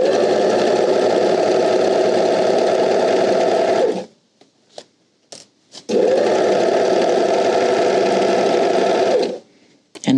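A sewing machine stitches steadily around the fabric edge of a tote bag in two long, fast, loud runs, separated by a pause filled with small clicks and fabric handling.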